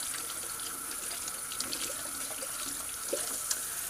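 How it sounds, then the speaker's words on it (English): Tap water runs steadily into a sink while a shaving soap container gets a quick rinse, a continuous close splashing hiss with a few small knocks near the end. "I'm just going to give a quick little rinse to this container"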